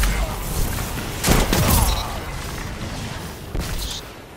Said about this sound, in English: Just amazing shotgun.